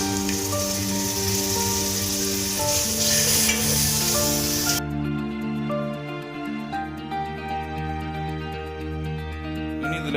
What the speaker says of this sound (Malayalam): അപ്പോൾ എണ്ണയിൽ കിടന്ന് ഈ മുളക് ഒന്ന് സെറ്റായി വരട്ടെ.